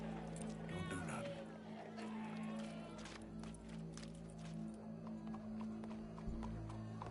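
Horse hooves clip-clop in Red Dead Redemption 2, a rhythmic trot of fairly quiet hoofbeats mixed with game ambience and a sustained low drone, with voices talking over parts.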